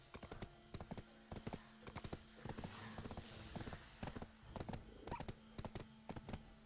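A horse walks in the video game Black Desert Online, its hooves clip-clopping in a steady rhythm that is close and fairly soft, with a brief pause partway through.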